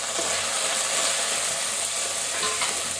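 Tomato, green chili and drumstick sauté in a pan, making a dense, even hiss of sizzling oil that stays loud and close for the whole stretch.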